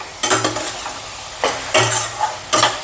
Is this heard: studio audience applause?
no